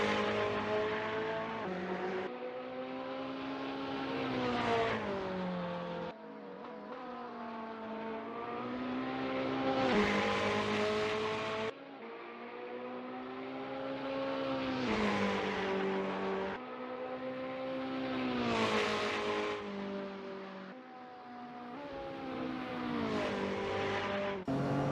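Ferrari 488 GT3 race car engine in a sim racing game, revving up and down through repeated gear changes at steady volume with no talk.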